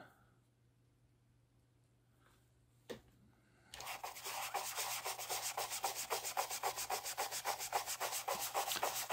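Quiet room tone, a single sharp knock, then steady rhythmic rubbing strokes of toothpaste being polished onto a solar light panel, close and fairly loud, repeating quickly until the end.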